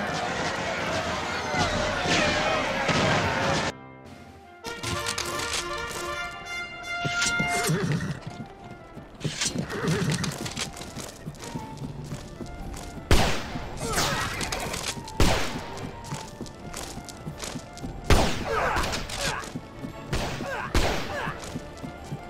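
Horses gallop and whinny amid crackling rifle volleys in a cavalry and infantry battle in the strategy game North & South, with repeated loud gunfire bursts and hoofbeats over about twenty seconds, a voice talking over parts of it.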